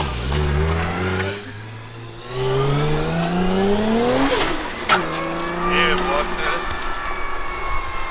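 A car with a stock long-block 1JZ engine accelerates hard, its revs climbing through gears with rising engine tones and brief shifts, with people talking over it.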